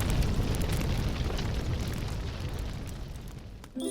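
A prison blowing up as a sound effect: a loud, dense explosion with a broad roaring rumble that slowly fades over a few seconds, heard alone.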